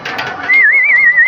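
A single racing pigeon coos up close: a soft, wavering warble that rises into a sustained, trilling note.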